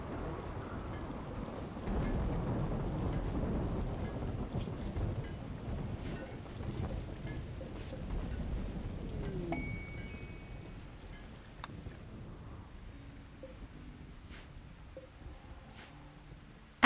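Rain with distant rolling thunder in a video game, a broad steady wash of noise that fades down in the last few seconds.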